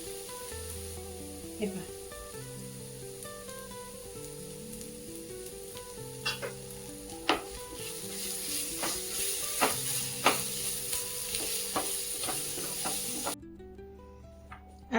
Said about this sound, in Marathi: आता याच्यामध्ये थोडंसं हिंग टाकून घेऊया.